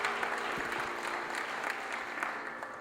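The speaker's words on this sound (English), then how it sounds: "One more round of applause for Sravani." An audience at a Bharatanatyam dance debut applauds steadily, a dense wash of clapping that holds at an even level throughout.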